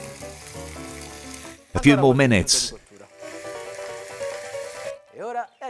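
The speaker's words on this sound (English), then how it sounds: "The oil is spluttering, so it's time to flip the chicken." Oil crackles, splutters and sizzles steadily as chicken fries in a pan for chicken cacciatore, while a person talks over it and music plays softly.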